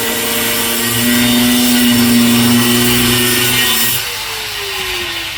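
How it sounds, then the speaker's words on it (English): A power saw cuts through steel rebar for a tree-mounted punching bag hanger, a loud continuous whining grind up close that shifts pitch and drops slightly near the end. "So, time to cut some rebar."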